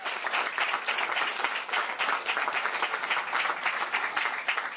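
Sustained audience applause at a Florida event with Governor Ron DeSantis, a dense steady wash of many hands clapping for the whole stretch, fairly close and even in level.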